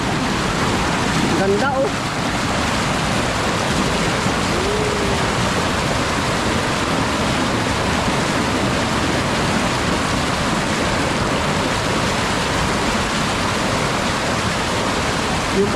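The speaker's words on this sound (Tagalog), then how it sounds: "Lakas po ngayon ng ano ng tubig oh." Strong river current rushing loudly and steadily throughout, a dense roar of flowing water with a brief voice near the start.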